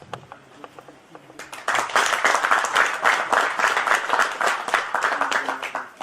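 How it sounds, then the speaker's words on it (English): A crowd at an alumni meet breaks into applause, brisk dense clapping that swells after a few scattered early claps and continues steadily, fairly close and loud. "A big round of applause."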